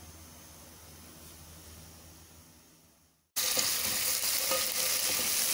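Onions frying in oil in a kadhai give a loud, steady hiss that bursts in abruptly after a brief quieter stretch and a moment of near silence, then continues densely with small crackles.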